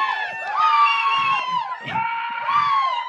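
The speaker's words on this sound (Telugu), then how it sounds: "గట్టిగా క్లాప్స్ కొట్టి అరవరేంది మన అనిల్కి" A crowd at a stage show cheers, whoops and yells loudly for Anil in a sustained wave of excited voices. Shouts rise and fall over about three seconds, and clapping is not clearly separable.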